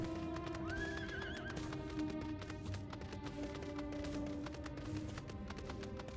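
A horse mount in Final Fantasy XIV gives a short whinny over soft rhythmic hoof clops, set against a bed of steady game music and ambience at moderate level.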